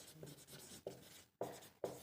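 A pen writes a math equation on paper: close, quiet scratching strokes in short bursts separated by brief pauses, with no one speaking.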